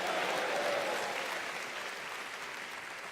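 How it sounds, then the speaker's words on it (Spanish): A church congregation gives a strong round of applause during a sermon, a dense, steady wash of clapping that fades slightly as it continues, with no talk over it. "de un fuerte aplauso para el Señor Jesús"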